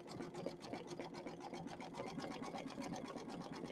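Embroidery sewing machine working satin stitches on a tea towel, a steady fast mechanical chatter of needle strokes running evenly and close throughout with no talking.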